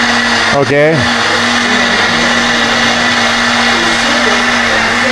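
A German juicer machine runs steadily with watermelon and celery inside, a loud continuous motor hum with a brief grinding surge near the start; a voice speaks one short word over it.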